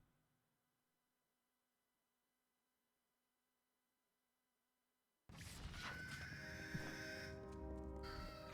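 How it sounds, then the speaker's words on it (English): Crows caw in a dense flock within the Kingdoms of Amalur: Reckoning game world, a sudden loud burst of calls that starts after several seconds of near silence and keeps up steadily to the end. "I hear birds."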